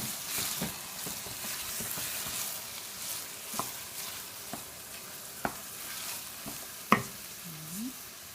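Onions frying and softening in peanut oil in a pan, a steady close sizzle with scattered clicks and taps of a utensil stirring, no talk over it.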